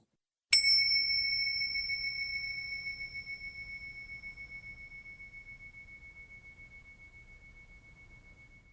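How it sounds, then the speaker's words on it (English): A single electronic bell chime from a MindBell mindfulness app strikes once, clear and pure, then rings on in a long, slowly fading shimmer. "Ring a bell sound like this."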